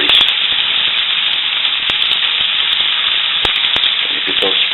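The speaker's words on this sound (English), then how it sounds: "Nothing better than frying stuff in bacon grease." Onions frying in bacon grease in a pan: loud, steady, close sizzling hiss with small pops and crackles throughout, and faint speech mixed in.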